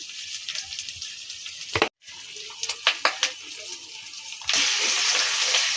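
Spiced water poured into mutton frying in a pan: sharp sizzling bursts and splashes, a brief pause, then a continuous loud hissing boil as the liquid hits the hot meat and spices.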